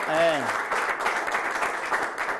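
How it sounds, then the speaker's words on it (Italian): A burst of clapping from an audience, steady and lively, with a brief voice at the very start. "Un applauso a Massimo"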